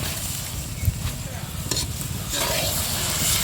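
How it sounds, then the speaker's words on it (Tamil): Curry leaves dropped into prawns frying in a pan produce a steady close sizzle with some stirring scrapes, with a brief louder crackle near the end. "கருவேப்பிலை போட்டுக்கிறேங்க."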